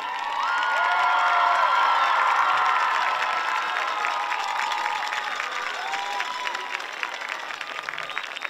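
Crowd cheering and applauding in the stands at a Chestatee vs Walnut Grove high school football game, a loud, dense roar of shouts and whoops that peaks early and then eases into steady clapping.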